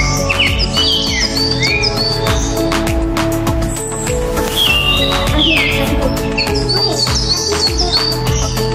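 Pet lovebirds indoors chirping constantly, with rapid overlapping tweets and squeaks close by, loud and busy over a low background hum.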